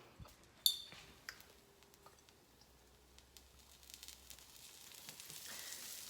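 Olive oil crackles in a very hot pan, a quiet sizzle that grows into a steady hiss after a few sharp clicks.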